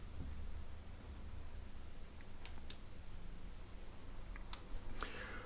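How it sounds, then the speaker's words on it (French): Retevis RB658 two-way radio with its PTT and PF1 buttons pressed together; a few faint, sharp clicks stand out against steady low hum and background noise. "Et on appuie sur PTT et PF1. Donc, PTT et PF1, les deux touches ici,"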